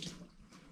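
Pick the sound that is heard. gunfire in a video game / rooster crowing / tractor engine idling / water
water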